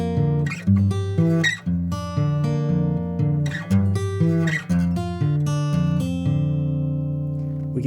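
Country blues fingerpicking on acoustic guitar at the level-2 arrangement: plucked bass notes alternating with melody notes in a steady picking rhythm, clear and close, no voices.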